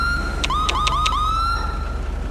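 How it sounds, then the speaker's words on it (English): A police siren in the LSPDFR game cycles through quick rising yelp chirps, then settles into a sustained wail that fades, loud and near over a steady low engine drone. "R is this random siren."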